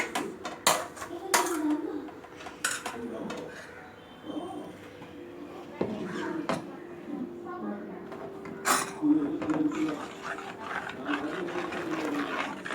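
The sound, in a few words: mixing beaten eggs with greens in a bowl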